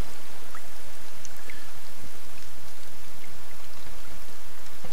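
Steady, dense rainfall from The Forest, a continuous hiss of drops on surfaces with faint scattered patters, loud and unbroken for the whole stretch, no voices.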